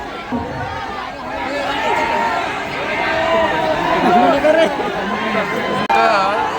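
A packed crowd at a fan event in Pune produces a thick, continuous wall of overlapping chatter and excited voices, with nearby talk rising and falling above the steady hubbub.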